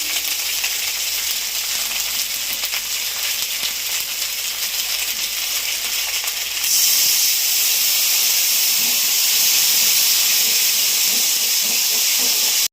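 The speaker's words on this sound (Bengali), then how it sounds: "মশলাটা যাতে না পড়ে অল্প একটু জল দিয়ে নিলাম আমি" Spices frying in a pan with chilli and salt for a red fish curry with bhetki and potatoes burst into loud steady sizzling and steam hiss when a little water is added, the hiss jumping louder partway through and continuing without talk.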